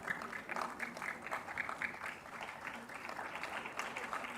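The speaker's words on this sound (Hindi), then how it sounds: "उसके बाद जो तालियां बजेंगी वो अभिजीत कुमार के लिए होंगी।" Sustained crowd applause for a gymnast at an awards ceremony in Lucknow, even and moderately distant, with a faint voice beneath the clapping throughout.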